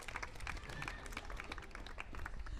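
Audience applause at an evening closing talk of a city lecture series, a dense, even patter of many hands clapping at moderate, fairly faint level, steady throughout with no break.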